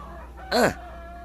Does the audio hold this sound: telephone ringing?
no